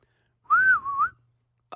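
A single person whistles a short rising and falling tone lasting under a second, close and clear, followed by a faint tiny click, with no talking.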